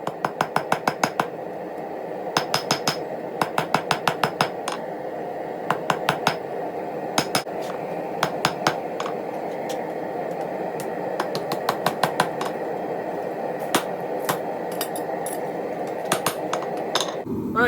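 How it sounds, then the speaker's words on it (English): Hammer forging small metal flanges for cabinet door handles: repeated bursts of sharp, ringing metallic strikes in quick clusters, loud and close, over a steady droning background hum. "forging out the little flanges that are gonna be what my screws are going into"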